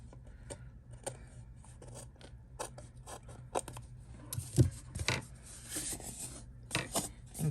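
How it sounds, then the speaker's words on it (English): Small snip-type paper scissors cut through paper in a run of sharp, close snips, sparse at first and then faster and louder in clustered bursts, with no talking. "I'm taking my smaller little snip type paper scissors here"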